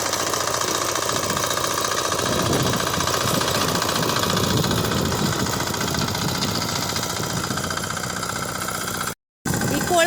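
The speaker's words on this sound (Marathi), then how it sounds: "ही कोळपणी करायची ट्रॅक्टर आहे" A tractor used for inter-row cultivation on a farm runs at a steady idle, its engine chugging continuously and close by, with a brief dropout near the end.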